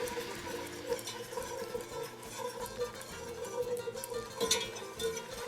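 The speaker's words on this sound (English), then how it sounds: "So we're going to start stirring this in, make a roux." Flour is stirred into a roux in a pan, a steady soft scraping and swishing that carries on through the whole span, fairly quiet and with no voice over it.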